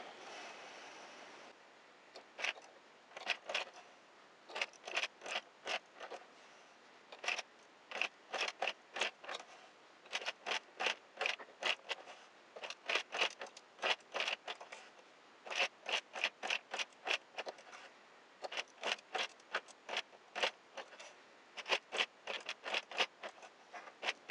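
A circular knitting machine is cranked in repeated bursts of quick, crisp mechanical clicking, each run lasting a second or two and separated by short pauses, close and clear against a quiet background.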